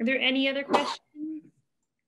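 A single sharp sneeze bursts out during a public library talk about gender, landing right after a speaker's voice and followed by a short spoken phrase.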